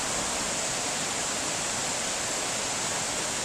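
Constant broadband rush of a waterfall near Red Indian Lake, Newfoundland, steady and fairly distant, with no voices or other events.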